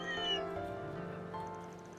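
A cat named Tiger meows in the video game Trails Beyond the Horizon, giving one drawn-out, falling meow followed by a softer trailing call, close and clear with no talking.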